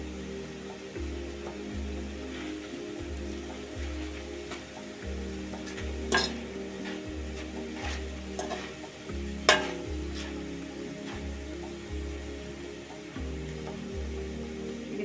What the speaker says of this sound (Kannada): ಶಬ್ದ ಚೇಂಜ್ ಆಗೋವರೆಗೆ ಚಂದ ಫ್ರೈ ಮಾಡಬೇಕು. ಶಬ್ದ ಕುರುಮ್ ಶಬ್ದ ಬರಬೇಕು, ಅಲ್ಲಿವರೆಗೆ ಫ್ರೈ ಮಾಡಬೇಕು.